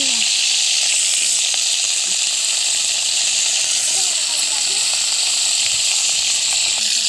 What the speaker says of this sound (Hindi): देखंतु मु छुई पकई टिके भाजी नउची